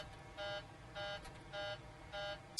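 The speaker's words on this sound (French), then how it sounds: "Ah, déjà, on a une alarme." In MSFS, the Boeing 737 take-off configuration warning sounds as four evenly spaced, moderately loud beeping bursts in a steady repeating rhythm, alone and with no voices over it.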